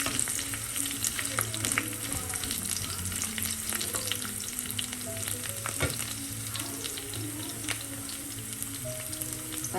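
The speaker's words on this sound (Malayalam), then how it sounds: "ഈ സമയം നമുക്ക് പച്ചമുളക് ചേർക്കാം, അതൊന്ന് ഇളക്കി കൊടുക്കാം." Green chilies frying and being stirred in a pan for a bitter gourd and carrot thoran: a continuous, close, crackling sizzle with small scrapes and pops throughout. No one speaks.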